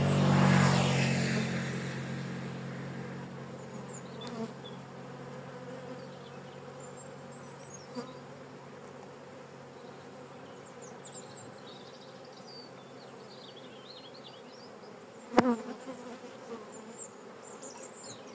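Honeybees from an opened hive at the end of winter buzz and fly around, a loud hum close by at first, then a fainter steady drone with a sharp knock partway through.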